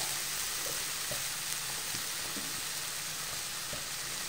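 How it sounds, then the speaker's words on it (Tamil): Ground tomato sizzles steadily in hot oil in a pan for tomato chutney, a continuous close frying hiss broken by faint scrapes and clicks as it is stirred, with no talking. "இப்போ இந்த அரைச்சு வச்ச தக்காளி போட்டு கிண்டி விட்டுட்டு கொஞ்சம் பெருங்காய தூள் போட்டுக்கலாம்."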